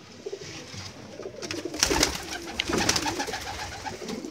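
Pigeons coo softly near their chicks in a loft where scaled pigeons are kept, a few low calls surfacing over faint background rustling and noise.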